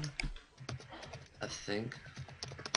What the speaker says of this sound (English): Oh, sorry for my typing.